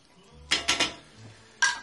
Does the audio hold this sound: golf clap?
no